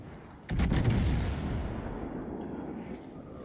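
Incoming naval shells from enemy warships in World of Warships, heard from a Bismarck battleship, land in a sudden loud burst of booming gunfire that rolls on in a sustained rumble before slowly fading.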